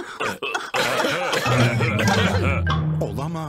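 Cartoon coughing from Peppa Pig, with several short coughs and throat sounds mixed with chuckling and character voices.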